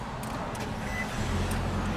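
A steady low rumbling 2017 Nissan Altima 2.5-liter four-cylinder engine idles close by after starting, with a constant mechanical drone and faint higher hiss throughout.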